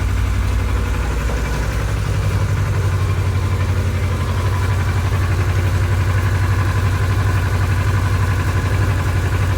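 Kawasaki KLE Versys motorcycle engine idling steadily, a loud, close, continuous low rumble with an even pulsing throb that holds constant throughout and has no talk over it.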